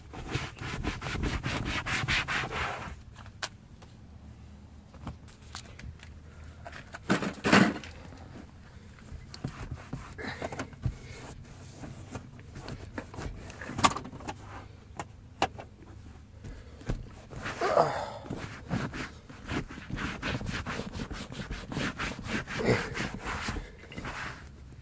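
Dirt being scrubbed out of the seat of an older Buick, heard as close, steady rubbing and brushing strokes in repeated bursts, with soft rustles and occasional knocks between them.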